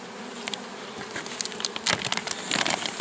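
Honey bees hum and buzz in an open hive during inspection at a forest apiary, a steady dense drone close by with louder passes of individual bees near the end.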